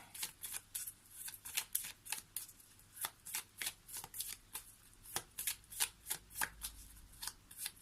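A Lenormand card deck is shuffled by hand in a quiet room, giving a rapid series of close, crisp riffles and flutters in an uneven rhythm.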